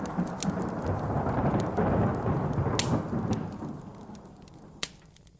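Thunderstorm rain around Hateno Village from The Legend of Zelda, with dense steady rainfall, a low rumbling roll of thunder, and a few sharp crackles and drips standing out before it fades toward the end.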